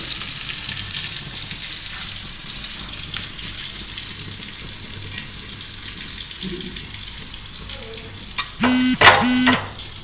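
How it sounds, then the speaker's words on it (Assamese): Mango pieces for pickle frying in slightly cooled hot oil in a kitchen: a continuous crackling sizzle with stirring, followed near the end by a couple of louder clattering, scraping bursts close by. "এতিয়া এইখিনি মই আমখিনি ঢালি দিম"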